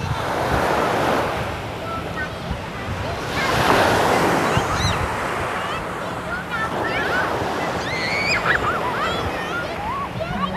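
Continuous roar of evening surf breaking and washing on a beach, with gusty wind buffeting the microphone and faint bird calls in the background.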